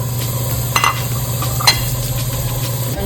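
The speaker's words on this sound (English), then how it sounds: "we're going to saute the onions for about 3 to 5 minutes" Onions sautéing in a little oil for Nigerian jollof rice give a steady, close sizzle over a low hum, with a couple of soft stirring scrapes.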